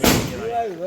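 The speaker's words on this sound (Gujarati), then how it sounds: "આ કપલ હુતળી બોમ્બ ફોડવા આવ્યું છે" A sutli bomb firecracker bursts during Diwali celebrations in a village, one sharp close blast followed by a short echoing tail as a voice rises behind it.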